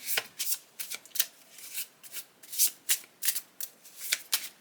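A Lenormand deck of cards riffle-shuffled repeatedly, a series of crisp fluttering bursts in quick succession, close by with no talking.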